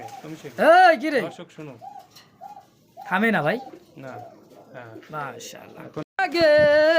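Large pigeons of the Rajgolla breed cooing repeatedly at close range, loud rolling coos in several bursts with short gaps, and people talking in between.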